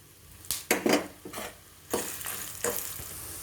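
Coriander seeds and dry red chillies fry in a little oil in a pan, along with curry leaves. Soft sizzling is broken by a few louder bursts of stirring and scraping, with the clatter of a utensil against the pan.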